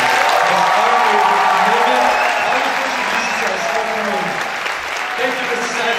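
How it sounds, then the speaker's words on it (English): A school assembly audience gives loud, sustained applause for a retiring staff member after a 33-year career, dense clapping throughout with voices murmuring and calling beneath it. "Let's give a big round of applause to Mr."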